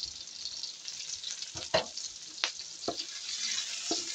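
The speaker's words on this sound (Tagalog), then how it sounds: "Gigisa na po natin dito sa pinagpirituhan natin kanina ng" Sliced pork and aromatics sizzling as they are sautéed in leftover frying oil, a steady close hiss broken by a few sharp stirring clatters, with no talking.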